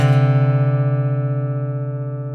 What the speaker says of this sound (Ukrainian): Це в нас інтервал велика секунда це дисонанс